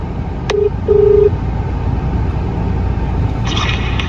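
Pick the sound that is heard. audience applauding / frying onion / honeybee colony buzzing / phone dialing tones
phone dialing tones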